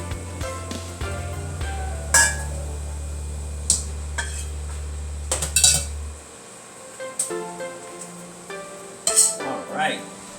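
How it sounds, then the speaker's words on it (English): Rice is tipped into a pan of cooking vegetables and seasonings during fried rice preparation, with clinks and scrapes of a utensil against the pan over a low steady hum that cuts out midway. "now I'm going to add my rice here real quick"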